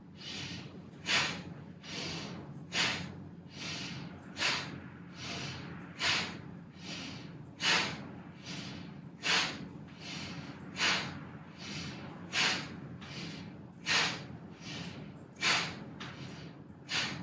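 Forceful exhales during a breathing exercise, sharp nasal bursts of air repeating about twenty times at a steady, quick rhythm, close and clear against a quiet background.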